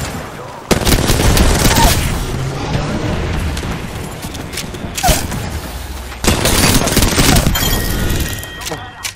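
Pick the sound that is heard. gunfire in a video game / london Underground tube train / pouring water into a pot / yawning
gunfire in a video game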